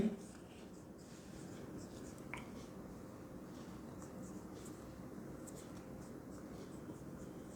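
A pen writes on paper during a maths lesson, giving a soft, continuous scratching that runs steadily throughout, close and fairly quiet.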